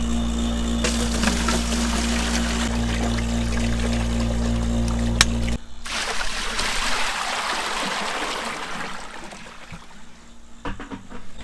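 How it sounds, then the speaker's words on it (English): Running water poured and gushing steadily for calves on a farm, a loud close stream over a low pump-like hum that cuts out midway, leaving splashing flow that fades toward the end. "I'm going to be getting water"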